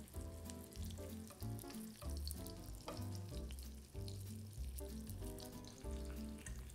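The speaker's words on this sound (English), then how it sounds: "you have enough that you can get a good little sizzle going" Pounded meat browns in a thin layer of oil in a pan, giving a steady, close frying sizzle that carries on without a break and without talk.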